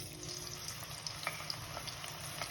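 Onion paste for egg curry frying in hot oil, a steady low sizzle with faint scattered crackles and light clinks, fairly quiet and with no voices.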